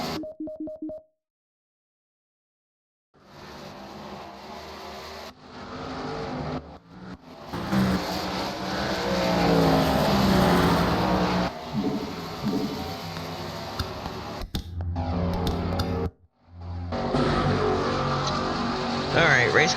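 MG Cup race cars on the New Hampshire oval roar past during a bunched-up restart, with engine blasts swelling and cutting off between gaps and a commentator talking over the racing.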